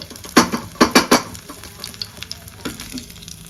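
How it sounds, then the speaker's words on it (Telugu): Pieces of chicken sizzle in a frying pan close by, with several sharp clattering stirs of a utensil early on. Softer scraping and crackling follow. "చూడండి, ముక్క చూసినారా ఎంత మంచిగా వేగిందో."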